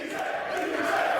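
Crowd at a poker tournament heads-up championship cheering and shouting together in a brief, loud, sustained roar.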